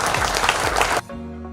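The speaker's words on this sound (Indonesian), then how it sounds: "Tepuk tangan dulu" Applause from an audience at a military food estate event in Indonesia, dense and steady for about a second before cutting off abruptly into quieter background hum.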